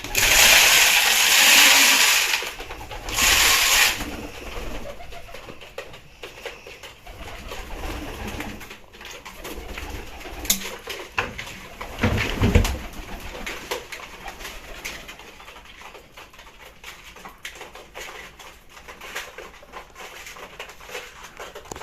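Pigeons in a loft coo and stir around a food bowl, with a loud rushing burst at the start and continuous low cooing and fluttering under varied background noise.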